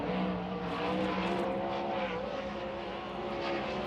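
A sprint car engine roars around a dirt track on a qualifying lap at Wayne County Speedway, a continuous loud harmonic drone with a slight pitch sweep as it passes, heard alone without talk.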